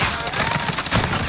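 Rapid automatic gunfire in the Call of Duty: Modern Warfare battle royale on the Rebirth map, a loud, dense burst of shots running continuously with no pause.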